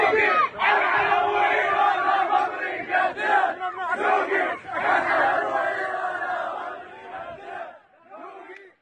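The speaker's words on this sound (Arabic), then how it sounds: "هتافات بحب العراق ورافضة لتدخل إيران في العراق" Crowd of Iraqi protesters chanting slogans in support of Iraq, a loud rhythmic mass of voices in repeated bursts with brief pauses between phrases, fading slightly toward the end.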